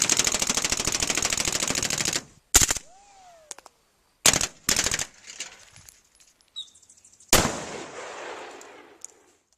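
Close, loud bursts of real gunfire recorded for video game sound design: a sustained rapid automatic volley, then several separate sharp single shots and short bursts with brief echoing tails between them.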